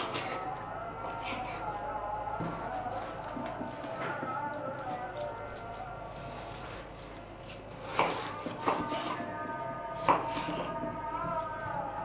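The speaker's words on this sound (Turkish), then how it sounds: "Bunları da böyle kuş başından birazcık daha küçük olacak şekilde doğrayacağım." A knife chops raw chicken breast into small pieces on a cutting board with a few sharp, irregular cuts, faint kitchen hum in the background.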